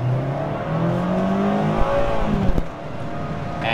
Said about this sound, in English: I'm gonna drive Mazda MX-5 in the city. I'm gonna put the car in the sport mode, drive